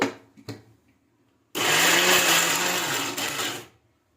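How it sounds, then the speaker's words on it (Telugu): A mixer grinder whirs loudly for about two seconds grinding fenugreek leaf chutney, a steady high-pitched motor roar, after a few quiet clinks. "ఇంకా మిక్సీ పట్టేసుకున్నాం"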